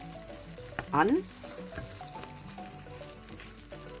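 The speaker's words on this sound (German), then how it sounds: "Der schmilzt jetzt nun durch die heiße Pfanne richtig schön" Bergkäse melting and sizzling in a hot pan on a grill, a steady low frying hiss running throughout with a brief louder burst near the start and a short spoken word.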